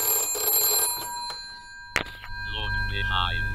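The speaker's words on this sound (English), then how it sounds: "it rings until you put the phone down" A homemade red telephone rigged as a haunted prop gives a sharp electronic ring and a click, with a muffled voice heard through the handset, after a stretch of background noise indoors.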